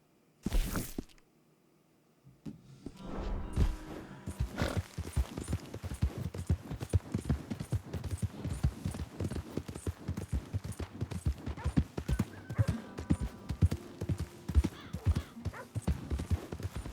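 A horse in Red Dead Redemption 2 clip-clops at a steady trot near a town, its hoofbeats close and continuous after a short quiet opening and a brief burst.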